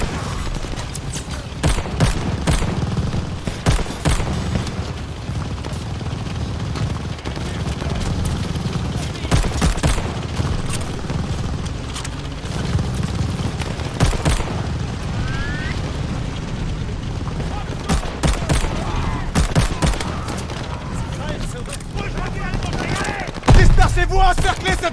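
Machine gun fire in a Call of Duty: Vanguard battle, rapid bursts of gunshots and distant explosions layered over a dense rumbling battlefield din, with shouted voices mixed in.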